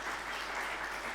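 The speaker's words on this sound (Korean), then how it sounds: "우리 박수로 환영하겠습니다." A church congregation at a Sunday Advent service applauds to welcome visiting guests. The steady, faint clapping lasts only a moment, with no voices over it.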